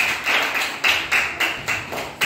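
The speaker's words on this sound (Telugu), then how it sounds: "very good claps" A classroom group claps in a steady rhythm, about eight crisp, evenly spaced claps close by and fairly loud, with no talking over them.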